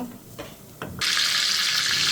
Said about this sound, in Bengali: আমি ডালটা সুন্দর করে তেলে ভেজে নিচ্ছি